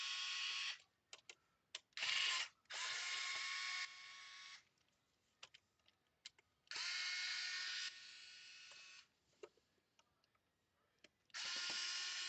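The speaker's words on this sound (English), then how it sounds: "Take out the screws from here as well." An electric screwdriver removes screws from an Xbox Series X console, several short whirring bursts of a second or two each, separated by small clicks and handling taps, loud and close.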